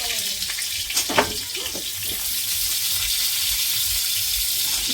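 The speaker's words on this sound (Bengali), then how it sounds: "হ্যাঁ ফুটছে।" Rice boiling in a pot on a home stove gives off a steady bubbling hiss that carries on through the whole stretch, with a few brief knocks early on and no talking.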